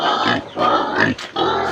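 Young pigs about two months old grunt loudly and repeatedly at close range, in several rough bursts separated by short gaps.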